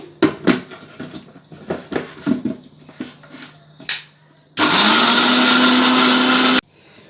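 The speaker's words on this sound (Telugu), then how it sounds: "ఇది మెత్తగా మిక్సీ పట్టుకోవాలి" A kitchen mixer grinder whirs loudly and steadily for about two seconds, grinding roasted gram with cardamom into a paste, after a series of clattering knocks and taps from loading the jar.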